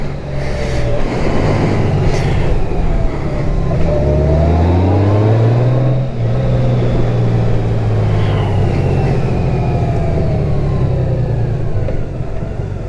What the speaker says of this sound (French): je me retrouve derrière un camion de poubelle de Marcel